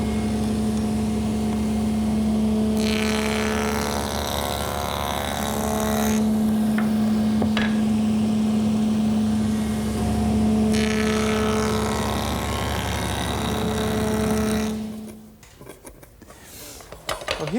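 Woodworking molding machine feeding wood pieces past a bead-profile knife, a loud, steady motor whine with a strong tone, broken by two long, harsher cutting passes, before the motor winds down near the end.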